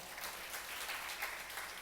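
A congregation at a Sunday church service claps loudly together, a dense, continuous burst of applause filling the room without any break.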